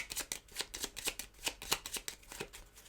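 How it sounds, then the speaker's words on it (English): A deck of playing cards being shuffled during a tabletop card game, a rapid run of crisp riffling bursts close to the microphone, with no talking. "So I'm going to shuffle the cards."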